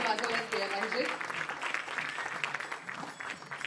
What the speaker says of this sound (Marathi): जोरदार टाळ्या त्यांच्यासाठी वाजवण्यात केल्या पाहिजेत.